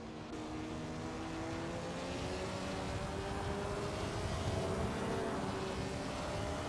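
Ford Capri engine heard from the cockpit in a sim racing game at Donington: a steady, droning engine tone with layered harmonics holding near-constant revs, continuous and moderately loud, no talk.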